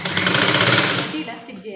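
A sewing machine stitches lehenga lining in a rapid, loud mechanical rattle up close, running hard for about a second before easing off, with a brief voice underneath near the end.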